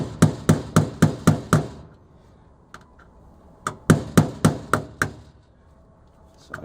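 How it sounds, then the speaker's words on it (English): A tool taps a small screw hole into a metal panel of a soda vending machine: two bursts of about six quick, evenly spaced sharp metallic knocks, separated by a quiet pause with a few lighter taps. "So I've pierced the metal, and I want a really small hole"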